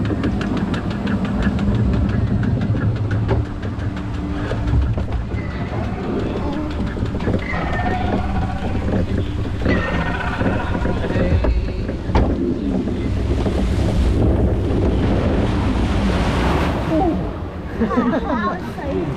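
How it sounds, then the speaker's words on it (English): A theme park water ride at Paulton's Park plunges and splashes down, a loud continuous rush of water and wind buffeting the microphone, with riders talking and shouting over it throughout. "We might get them wet with our splash,"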